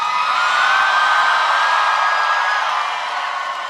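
Large rally crowd in Boise, Idaho cheering and applauding in a sustained, loud, dense roar, with whoops rising over the continuous wash of clapping.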